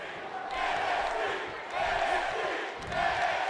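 An arena crowd in the WWE 2K18 wrestling video game chants in rising and falling waves, loud and rhythmic, with three distinct surges across the stretch.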